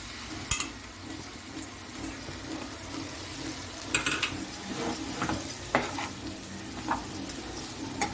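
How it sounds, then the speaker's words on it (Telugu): A pan of egg noodles being stirred and tossed with masala, a utensil scraping and clinking against the pan in irregular close strokes under a low steady cooking hiss. "ఇప్పుడు నూడిల్స్ కలిపేసుకుందాం"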